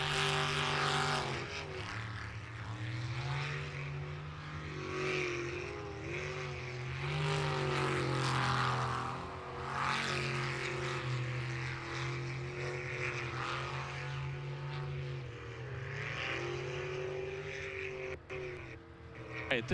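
Sprint boat racing engine roaring steadily at high revs as the jet boat runs a twisting course, a loud continuous drone with pitch rising and falling through the corners, heard without talk.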